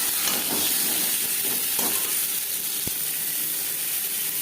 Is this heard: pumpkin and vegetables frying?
yes